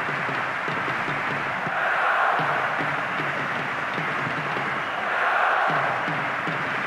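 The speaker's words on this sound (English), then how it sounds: "that's really got the crowd going" A large football stadium crowd at a Denmark vs Germany match gives a steady roar, rising into two swells of cheering, broad and distant with no clear voices.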